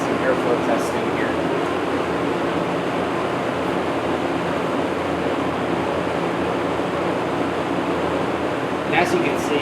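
A 1980s Lakewood brown box fan on a stand runs steadily, giving off a continuous broadband whoosh of moving air with an even, unchanging level throughout.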